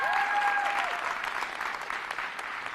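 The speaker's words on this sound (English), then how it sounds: "Yeah, you can clap for that." Audience applause at a community college's State of the College Address, a steady wash of clapping from a full room with brief cheering at the start, moderately loud and fading slightly toward the end.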